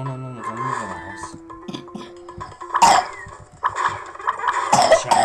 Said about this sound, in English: While my brother coughs.